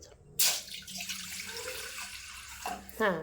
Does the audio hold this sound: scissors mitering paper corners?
no